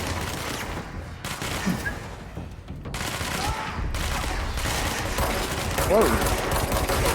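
Rapid bursts of gunfire ring out during a firefight in the video game Control, with repeated weapon fire and booms across the clip while a man exclaims once.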